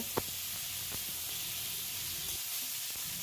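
Potatoes and okra frying in a pan, a steady close hiss and sizzle of hot oil with a couple of faint clinks, no talking.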